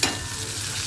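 Chopped tomato fries in a hot pan, a short close burst of sizzling with a stirring scrape at the start, steady hiss under it and no voices.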